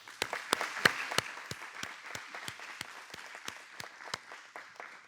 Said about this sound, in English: With gratitude, let us give them a round of applause.